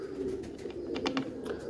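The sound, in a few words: pigeon cooing in a cage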